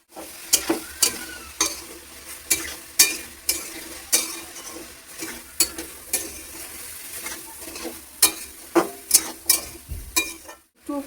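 Bottle gourd and sautéed shrimp cooking in a pan with a splash of water and turmeric, with a loud run of sharp scraping stir strokes over a steady sizzle, no talking.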